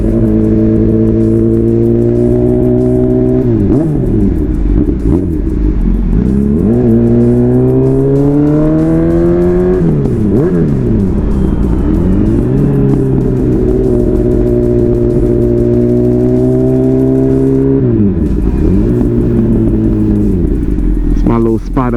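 A Honda CB1000R motorcycle, freshly ECU-flashed and retuned, revs hard on a dyno, its engine climbing and falling through repeated loud throttle blips with rising and dropping pitch sweeps, close and continuous throughout.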